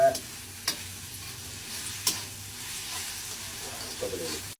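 A spoon stirs ingredients cooking in a pot, with a low, steady sizzle and hiss and a few sharp scrapes against the side, close and loud with no talking.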